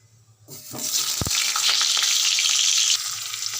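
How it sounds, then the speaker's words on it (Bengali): Mango pieces dropped into hot oil with mustard seeds and panch phoron for a chutney: quiet at first, then a sudden loud hissing sizzle bursts up and holds steady, close and intense, easing slightly near the end. "এবার আমি আমগুলোকে ছেড়ে দেবো একটা একটা করে সমস্ত আম দিয়ে দেবো"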